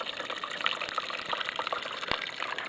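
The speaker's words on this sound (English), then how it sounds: "we'll run this little cleanup sluice." Water running through a small gold cleanup sluice carrying concentrates, a faint continuous trickling gush with light splashes.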